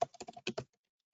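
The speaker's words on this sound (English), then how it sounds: "So type bifidobacterium." Short burst of typing on a computer keyboard, about seven or eight quick clicks in an uneven rhythm, close and fairly quiet, then silence.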